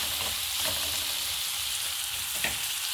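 Liver and kidneys fry in a pan for a Kenyan meal, keeping up a steady, hissing sizzle while a utensil stirs them, with one brief scrape near the end and no voices.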